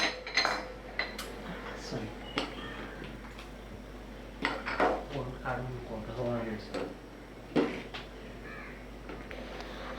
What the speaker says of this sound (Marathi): आणि काळ्या वाटाणे सांबार ढवळून घेऊया.